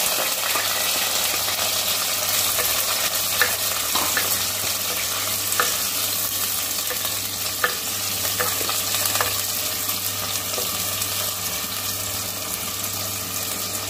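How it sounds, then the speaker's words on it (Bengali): Sliced onions fry in four tablespoons of mustard oil for a Bengali mutton curry, a constant close sizzle with occasional stirring scrapes and small crackles. "তেল আমি নিয়েছি 4 টেবিল স্পুন সর্ষের তেল, আর স্লাইস করা অনিয়ন্সটা আমি এখন ভেজে"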